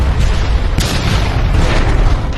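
A film scene has a massive explosion as a plane wing slams into the ground, a loud sustained roaring blast with a sharp burst partway through, filling the whole clip.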